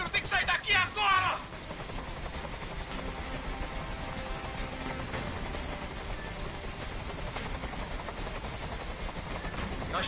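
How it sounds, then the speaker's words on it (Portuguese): A helicopter from the video game Detroit: Become Human, a steady, loud rotor drone filling the scene after a brief burst of shouted talk at the start, continuing unbroken to the end. "Esse helicóptero tem que sair daqui agora!"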